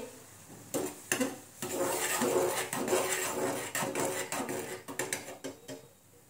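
Finger millet flour cooked and stirred into dough in a pan for nachni bhakri, with a run of clinking, scraping metal-on-pan knocks and rattles, close and fairly steady, with no talk.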